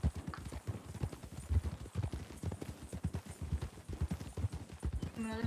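Horse hooves clip-clop steadily in a video game ranch setting, a fast repeating rhythm of hoof strikes close by, with a brief whinny-like sound near the end.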